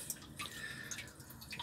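Water in a tank being cleaned is drawn up by a submerged hose, giving a faint, close gurgle with scattered droplet plinks and small bubbly sucking sounds.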